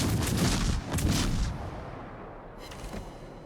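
Video game gunfire as a ship comes under attack: a dense burst of booming, crackling shots in the first second and a half, then fading to a lower, rumbling background.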